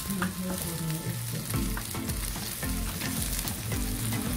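Onion and garlic fry and sizzle in oil inside a Kyowa multi-cooker set to high heat, a steady close crackle with stirring clatter throughout and no talking.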